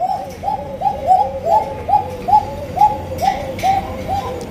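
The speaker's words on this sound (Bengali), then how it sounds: "ভাইয়ের কাছে কিন্তু খুবই সুন্দর সুন্দর চমৎকার চমৎকার কবুতরের কালেকশন আছে" Fancy pigeons at a pigeon farm coo close by, a rhythmic run of about a dozen soft, rolling coos in quick succession, with faint background chatter and clatter.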